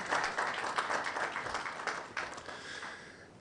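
A brief, fairly faint round of clapping comes from an audience at the National Science and Maths Quiz 2022 launch, a steady patter of many hands with no voices over it.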